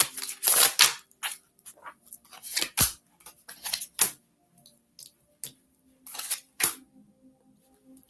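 A deck of oracle cards is shuffled in quick bursts of crisp riffling and snapping, spaced by short pauses, close and clear with no talking.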